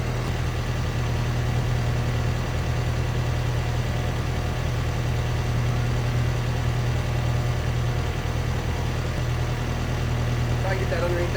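An excavator's diesel engine idles steadily nearby, a constant low hum with a dense mechanical drone that holds unchanged throughout, while people talk faintly in the background.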